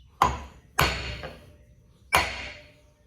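A hammer drives a part out of a hydraulic cylinder from a Ditch Witch mini skid steer that is being overhauled. Three sharp, ringing metallic blows fall close by, the last after a short pause.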